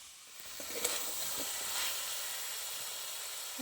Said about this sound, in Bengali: এবার আমি এতে জল দিয়ে দেবো।